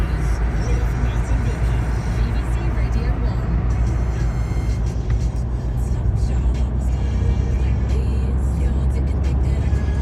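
A car travels in merging motorway traffic in Kent as about ten lanes narrow to three or four, giving a steady, close engine and road rumble throughout.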